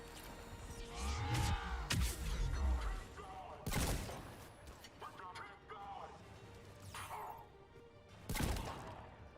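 Gunfire strikes an escape pod during a Mass Effect 3 battle, with sharp bursts and crashing impacts at intervals over a noisy din of game sounds, while voices speak in the mix.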